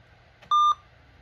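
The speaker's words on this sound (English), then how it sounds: "actually played a beep through the PC speaker" A single short electronic beep from an IBM ThinkPad T23 PC speaker, clean and tonal, sounds once against near silence.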